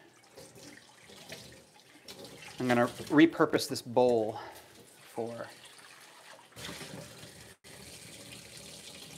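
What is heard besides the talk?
warm water running from kitchen tap into bowl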